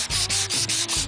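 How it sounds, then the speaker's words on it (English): Quick back-and-forth strokes of wet-dry sandpaper on a sanding block over a 1940 Chevrolet truck body, loud and close, with about five rhythmic scrubbing passes in a second. "Simply sand until"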